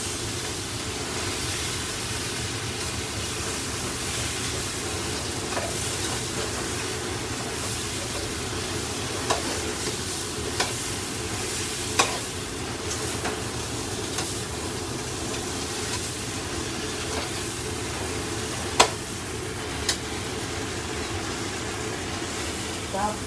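Goat kaldereta stew sizzling in a pan as it is stirred: a constant broad hiss with occasional faint clinks of the utensil against the pan.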